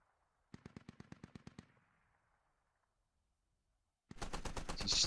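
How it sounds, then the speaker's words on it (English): Two bursts of rapid automatic gunfire in the video game Squad: a rhythmic string of about ten shots, then silence, then a louder, denser burst, with no talk. "away from the gunfire, which is happening up north"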